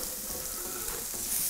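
Onions and garlic sautéing in oil for a vegetarian pumpkin lasagne sauce, a steady close sizzle and crackle with faint stirring, no voices.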